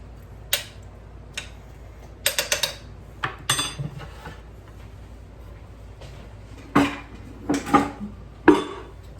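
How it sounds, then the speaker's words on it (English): A spoon scrapes and clinks against a crock pot while stirring spices into chicken corn chili, giving scattered sharp metallic taps in uneven clusters, close and fairly loud, with no talking. "stir all these spices"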